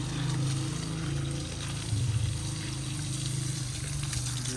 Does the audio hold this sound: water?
yes